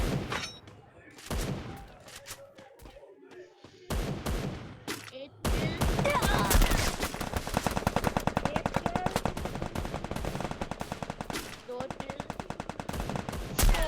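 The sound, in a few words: sniper rifle gunfire in a video game training ground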